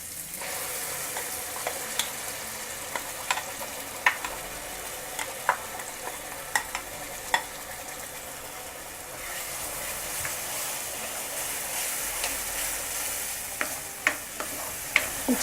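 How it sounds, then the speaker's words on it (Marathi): Ground masala paste frying with softened tomatoes in a pan over full gas, a steady close sizzle broken by repeated scraping clicks of a stirring spoon. "आता यात आपण जे वाटण केलेलं आहे ते घालायचं आहे."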